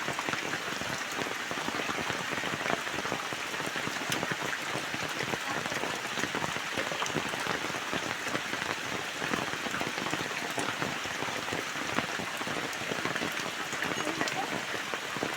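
Steady rain falls outdoors on a Vat Purnima ritual in Chindravale village, Guhagar, Ratnagiri. It patters continuously and evenly on surfaces nearby at moderate loudness throughout.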